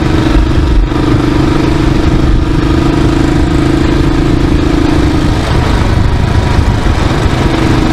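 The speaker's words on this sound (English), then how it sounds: "bike runs well on the dirt at 80, providing you can trust the dirt road" Motorcycle ridden on a dirt road at 80 km/h, its engine droning loudly and constantly up close with a steady tone, buffeted by wind roar and gravel clatter throughout.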